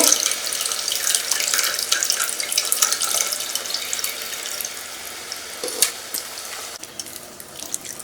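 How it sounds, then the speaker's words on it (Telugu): Tamarind pulp squeezed by hand in a bowl of water for a korameenu fish curry (chepala pulusu), a steady wet sloshing and splashing close by, with no talking. "ఇలా గుజ్జును తీసుకోవడం వాటర్లోని పిండి మళ్ళీ అందులో వేయడం"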